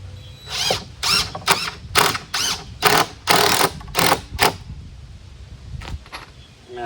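A power drill drives 2.5- and 3-inch screws into the legs of cheap DIY sawhorses, a run of about ten short whirring bursts with brief pauses between them, close and loud, then quieter at the end.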